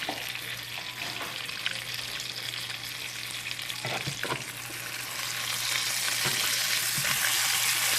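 A piece of salmon with crispy skin fries in a pan with a dense, steady sizzle close by. A few knocks and clinks sound as it is turned, and the sizzle swells louder toward the end.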